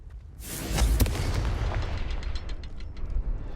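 A Confringo spell explodes in the video game Hogwarts Legacy with a deep, loud boom and crackling burst, followed by a rumbling tail and scattered debris pops.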